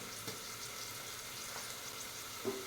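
Sliced onions with ginger-garlic paste frying in a pan for restaurant-style dal khichdi, a soft steady sizzle with a couple of faint stirring clicks, fairly quiet and without talk.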